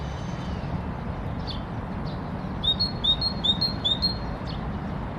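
Small birds near the Oder river chirp in a quick run of bright, high tweets, several calls close together midway through, over a steady low outdoor rumble with no talk.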